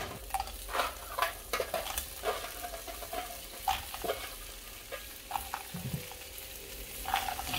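Garlic frying in oil for spaghetti alle vongole, a soft steady sizzle broken by repeated scraping stirs of a utensil in the pan, close and with no talking.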